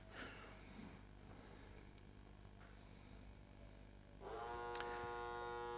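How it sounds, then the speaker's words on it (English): Small electric thruster motors of an autonomous underwater vehicle running with a steady faint buzzing hum, growing louder and denser partway through as a second thruster joins. "Then both thrusters go on to take the AUV forward in the water column."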